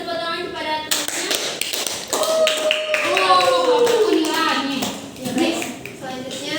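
Students in a classroom give a short round of clapping for a presenting classmate, close and uneven taps under overlapping talk from a teacher and students.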